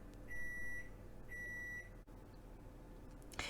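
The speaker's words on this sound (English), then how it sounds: "I've given it another 2 minutes in the microwave." A microwave oven beeps after melting butter for gingerbread baking in a home kitchen: two long, loud electronic tones in a row over a steady hum, followed by a brief clatter.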